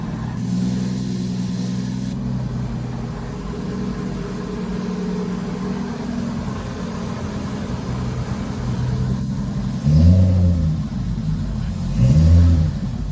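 A Subaru drift car engine idles with a steady low rumble, then is revved twice in quick surges that rise and fall near the end, loud and close with no talk over it.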